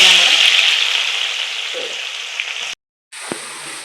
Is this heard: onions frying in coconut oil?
yes